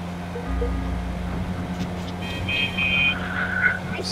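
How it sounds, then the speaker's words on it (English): A V8 car engine in the video game GTA hums steadily at low pitch, rising slightly in revs, with faint tonal whines above it and no voices. "This thing sounds like a little four-cylinder for having a V8 in it"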